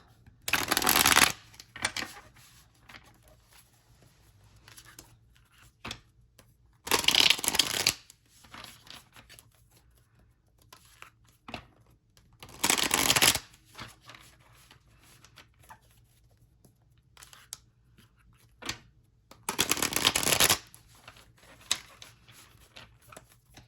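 Cards are shuffled in four separate bursts, each riffle lasting a second or so, with quiet pauses between them.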